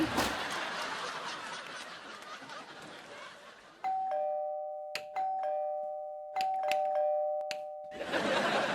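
A two-tone doorbell chimes several times in a quiet room, each ding-dong ringing out clearly after a stretch of noisy background, then the noise returns.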